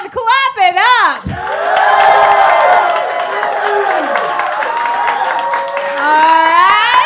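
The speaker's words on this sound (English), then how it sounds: "If you think Ben won, clap it up." A live roast-battle crowd claps, cheers and whoops loudly and continuously for several seconds, with shouting voices rising through the dense applause after a brief singing voice opens.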